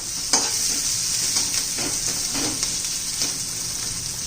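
Garlic, cumin, mustard seeds, onion and curry leaves fry in hot oil, making a steady close sizzle with a hissing top. Soft stirring strokes recur every half second or so.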